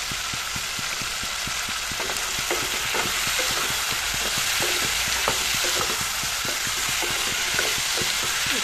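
Cut potatoes frying in a pan while cooking fish egg curry, a steady loud sizzle running throughout, with frequent small scraping and stirring clicks and no talk.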